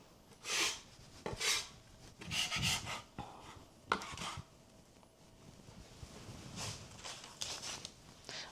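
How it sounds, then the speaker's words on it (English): A scraper rasps across a floured pastry board while blueberry lemon scones are being made, clearing away excess flour in several short, close scraping strokes with brief pauses between them. "I'll just scrape that away."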